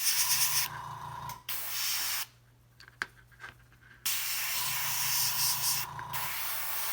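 An airbrush sprays primer from above for a zenithal prime. It makes a steady, close hiss in two long bursts split by a short pause, with a low hum beneath.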